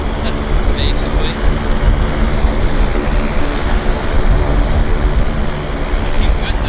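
An airliner sits at a gate at Vancouver International Airport running its engines, producing a steady, loud, broadband roar with a deep low rumble that holds constant throughout.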